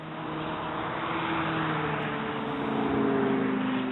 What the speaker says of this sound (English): Exotic cars using this rural road as a drag strip.